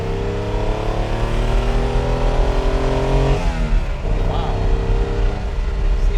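A 1962 Maserati sports car engine revs hard at high rpm, a loud sustained drone climbing in pitch before a gear change midway, then pulling again, heard from on board over road noise.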